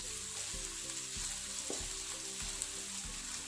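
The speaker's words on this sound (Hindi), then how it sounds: "मज़ीद 2-3 मिनट के लिए और फ्राई करेंगे" Chicken and vegetables for noodles fry quietly in a pan, a soft continuous sizzle with repeated low rhythmic stirring thumps roughly every half second.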